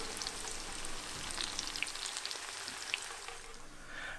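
Leek latkes frying in a pan, a soft, steady crackling sizzle with scattered pops and spits, fairly quiet and unbroken, with no voices.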